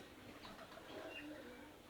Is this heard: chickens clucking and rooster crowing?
no